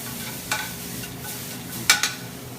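Garlic sautéing with pork in a single pan, a low steady sizzle with a couple of brief scraping stirs of a utensil against the pan.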